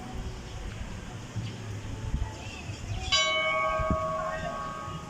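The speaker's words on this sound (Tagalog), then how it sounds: "Ay, break time. May bell dito," A bell rings for break time at a resort, a sudden bright sustained ring cutting in after a few seconds over low background murmur and ambient noise.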